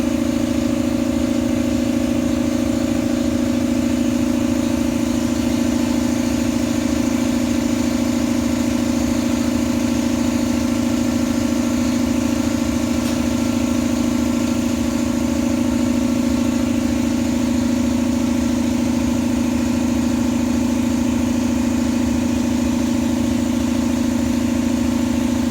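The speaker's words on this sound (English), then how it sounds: "Sorry about the air compressor." An air compressor runs steadily in a small-engine workshop during an axle seal replacement on a Gravely Model L garden tractor, a loud continuous motor drone with a strong low hum holding unchanged for the whole stretch, with no talk over it.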